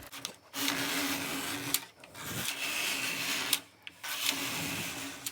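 Carriage of a Singer double bed knitting machine sliding back and forth while knitting close rib rows, a steady whirring rasp in long passes separated by brief pauses and clunks at each end, close and clear.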